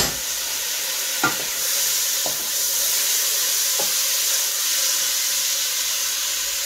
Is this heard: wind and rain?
no